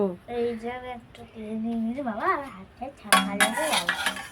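A spoon clinks against a metal cooking pot during children's play cooking, a few light taps mixed in with children's voices and singing-like talk.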